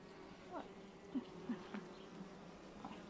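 Honey bees buzz around an opened beehive during an inspection, faint and close, with a few brief louder passes of individual bees over a quiet, steady background hum.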